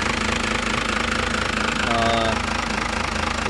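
A 1993 Cummins turbo diesel with an HX35 turbo and a lightly modified injection pump runs steadily nearby, a loud, even, knocking clatter with a constant drone throughout.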